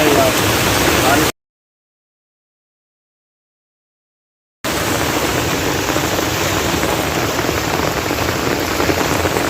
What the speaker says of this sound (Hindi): बारिश का नाम रुकने का नाम ही नहीं ले रहा है यार।